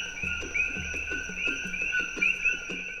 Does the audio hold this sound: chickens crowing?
no